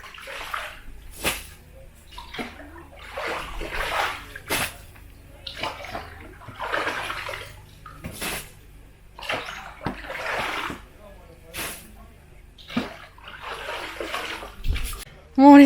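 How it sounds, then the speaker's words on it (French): Water splashing and sloshing in bursts as a swimming pool is emptied by hand, with repeated scooping splashes at an uneven rhythm, close by, and bits of voice between them. "on va mettre les pieds dans la flotte et on va aller vider cette eau"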